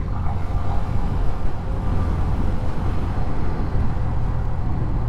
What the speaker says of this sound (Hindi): लेकिन अभी चल रही है भाई बाइक।